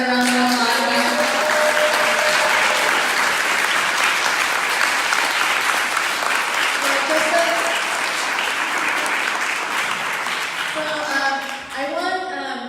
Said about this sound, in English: let's give our panelists another round of applause